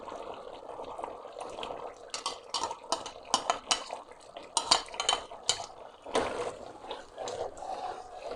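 Cream stirred into chicken white korma in a pot, with repeated clinks and scrapes of a spoon against metal and soft wet stirring, close and moderately loud.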